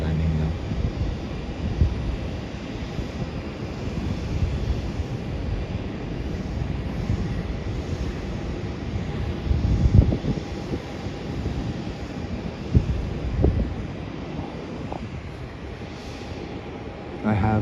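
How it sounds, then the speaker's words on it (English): A Qantas Airbus A380 lands at Melbourne airport, its engines a broad, steady rumbling roar with wind buffeting the microphone, swelling slightly midway, with speech in the background. "Qantas Airbus A380 will be landing now"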